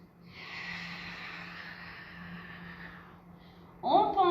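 A long, audible inhale during a Pilates exercise, a soft breathy rush lasting about three seconds, followed by a voice starting to speak.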